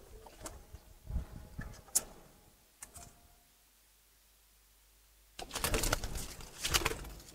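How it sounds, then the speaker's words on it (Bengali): Giribaj pigeons in a loft give soft, low coos close by, with a quiet pause and then a busier stretch of cooing and rustling near the end. "খুব সুন্দর একটা গঠনের কবুতর"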